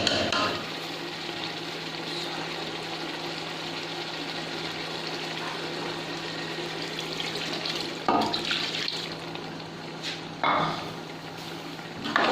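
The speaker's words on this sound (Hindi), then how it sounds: "अब हम मज़ीद ग्रेवी बढ़ाने के लिए इसमें पानी ऐड करेंगे" Water poured steadily into a pan of chicken korma gravy after yogurt has been fried in, a continuous close splashing stream with a couple of brief louder surges near the end.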